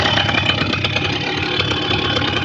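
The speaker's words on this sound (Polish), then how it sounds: "silnik ma ochotę zgasnąć. Bardzo nisko schodzi, ale jak tylko włączę z powrotem, to od razu go podbija do właściwych obrotów" A Simson S51 motorcycle engine idles at very low revs, close to stalling, with a steady, close, continuous rumble and no talk.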